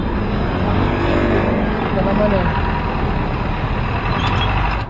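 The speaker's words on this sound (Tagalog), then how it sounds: "Medyo traffic din dito mga kapitán." Road traffic in the Philippines, with cars and a truck rumbling past in a loud, continuous roar and a brief air-brake hiss near the end, while someone speaks over the noise.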